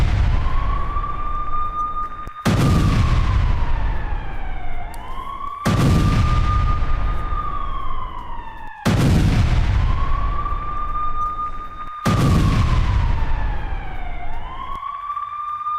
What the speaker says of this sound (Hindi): फायरिंग अभी भी जारी है बॉर्डर पर